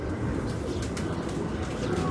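A pigeon on a rooftop coos softly and continuously in close range, set against steady ambient noise, with no clear talking.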